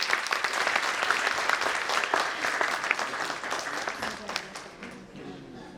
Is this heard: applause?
yes